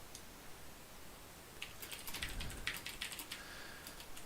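Fingers type on a computer keyboard during React and TypeScript coding, keys clicking in quick irregular bursts after a quiet stretch, close and fairly soft with no talking.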